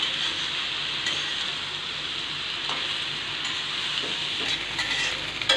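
Raw jackfruit pieces stir-fry in a pan with spices, a continuous hissing sizzle with occasional light scrapes and clinks of the spatula, steady and close, with no voices.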